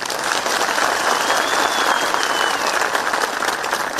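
Steady, dense applause from a large audience at a public address by Himachal Pradesh Chief Minister Jairam Thakur, loud and continuous for about four seconds with no voices over it.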